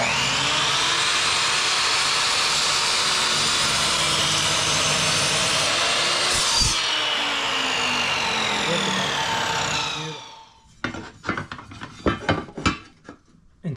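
Sliding compound miter saw set to 45 degrees cuts a 2x4: a loud, steady high motor whine runs for about ten seconds as it winds down, then leaves a scatter of sharp clicks and knocks.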